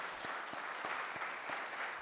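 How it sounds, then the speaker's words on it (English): Applause from families and guests at a school National Signing Day ceremony, a steady dense patter of many hands clapping through the whole stretch at moderate level. "let's give them a round of applause for that"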